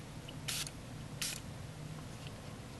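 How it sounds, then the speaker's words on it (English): Two short hissing bursts from a spray bottle mist solution onto the backside of a skin protector for a Galaxy Note 7, each about a fifth of a second, close and quiet against faint background hum. "I'm going to spray the backside with the solution"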